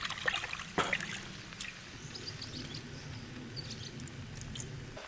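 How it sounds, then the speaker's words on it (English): Morel mushrooms are shaken in a bowl of water, making quiet sloshing and dribbling with a few sharp splashes near the start, then settling into faint trickling. "Just shaking it vigorously inside the bowl of water helps."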